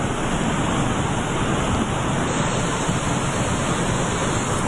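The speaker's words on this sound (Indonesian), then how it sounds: "Sungai Ciliwung pun mengalir deras" The swollen Ciliwung River in Bogor rushing swiftly after heavy rain, a constant loud roar of churning water close by, unbroken and without speech.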